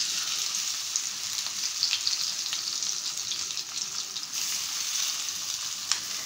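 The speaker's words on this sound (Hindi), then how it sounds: "ऑयल जो है गरम हो चुका है, अब जो है मैं फ़िश रख दूँगी।" Fish sizzles and crackles steadily in hot oil on a grill at a Karachi roadside fish-fry stall, a constant bright hiss with occasional pops.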